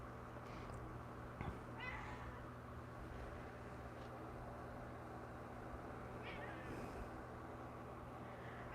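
A cat meowing indoors, a few faint, drawn-out cries spaced several seconds apart over a steady low hum, with quiet speech at times.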